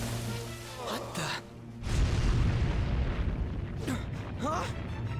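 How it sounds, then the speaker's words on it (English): A ship explodes in the video game Persona 5 Royal, a deep booming rumble that swells and sustains behind the scene while characters speak over it. "The ship is exploding."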